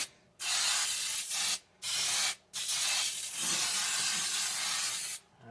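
Cooking spray is sprayed into a 13x9 cake pan in three sustained hissing bursts separated by short pauses, with the last burst the longest. The spray is close and fairly loud, with no talking.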